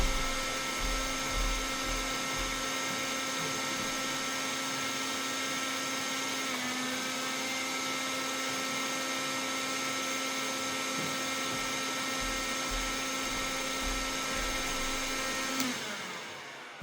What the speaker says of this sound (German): Ich schalte mal den Föhn ein und dann trennen wir die Verbindung vom Balco zum Netz.